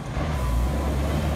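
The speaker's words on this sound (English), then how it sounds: "And the truck is moving." A large truck moves on a city street near a sinkhole, its engine producing a loud, steady low rumble close by with no talking.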